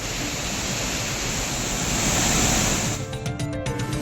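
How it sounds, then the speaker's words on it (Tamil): Roaring torrent of Suruli falls in flood after heavy rain, a loud, dense broadband rush of pounding water that holds steady, then turns choppier with splashing near the end. "தூவானம் உள்ளிட்ட இடங்களில் மழை தொடர்வதால் அருவியில் வெள்ளப்பெருக்கு ஏற்பட்டுள்ளது"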